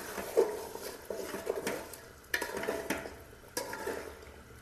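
Country chicken curry being stirred in a cooking pot, with repeated scraping and clinking strokes from a spoon against the pot under a soft background simmer.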